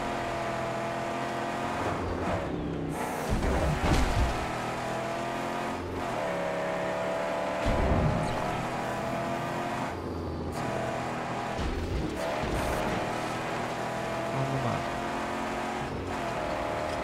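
A car engine in the Mad Max video game drones steadily throughout, with surges of revving and acceleration over a constant road rumble and no talk.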